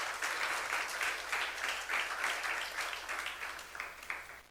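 A church youth congregation claps together in faint, rhythmic bursts at a worship service, the sound somewhat distant and even throughout.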